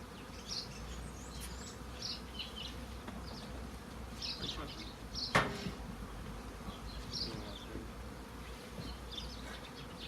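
Many honeybees buzz around an open hive nearby in a steady, droning hum, with individual insects passing close and one sharp clack midway.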